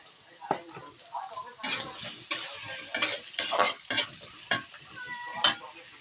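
A handful of onions and four or five green chillies fry in a pan of greens, with a steady sizzle broken by sharp, repeated scrapes and clanks of a spoon stirring in an irregular rhythm.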